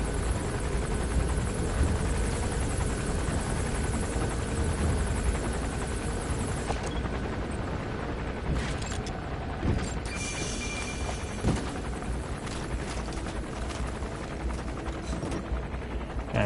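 Helicopter in the video game Metal Gear Solid V: The Phantom Pain, a steady rotor drone with scattered game effects and clicks partway through, moderately loud and alone.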